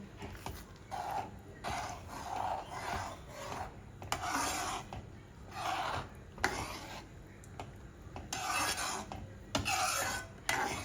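A utensil stirs boiled dal in a pot with repeated scraping and rubbing strokes, steady and close, in rhythmic bursts at about one-second intervals.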